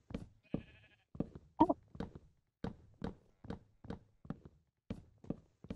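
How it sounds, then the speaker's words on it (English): In a video game, a sheep gives several short bleats among a steady series of evenly spaced footstep-like thuds, all clear and close with no voices. "There's a sheep."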